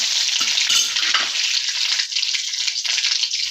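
Curry leaves and mustard seeds hit hot oil for a coconut chutney tempering, giving a bright, steady sizzle and crackle close up with no talking.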